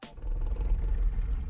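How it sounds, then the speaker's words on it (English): A bear growls in the Blue Archive video game, a low, rumbling roar that starts abruptly and holds steadily for over a second with no talk. "And the growling of bears just off in the distance."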